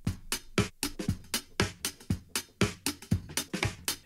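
Drum loop sampled from a track and run through a frequency shifter, busy and shuffling with dense bright hits and softer low thumps, fairly quiet and alone.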